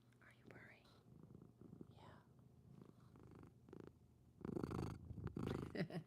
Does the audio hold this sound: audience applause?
no